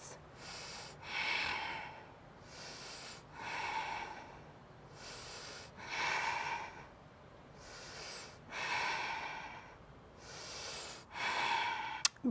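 Deep, audible breaths drawn in and pushed out through the nose while holding a full plank in a yoga session, roughly five slow, rhythmic cycles close up with a faint hiss, and no talk.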